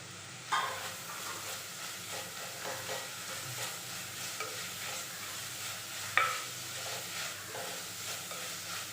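Garlic paste, ginger and curry leaves sizzle steadily in hot oil for chicken curry, a continuous close crackle with a few sharp pops rising above it.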